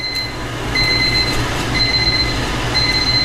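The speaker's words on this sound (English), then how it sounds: "I've got a timer going off" A timer beeps in repeated high electronic tones during Cerakote stencil work on a stainless steel tumbler, over a steady rumbling background hum.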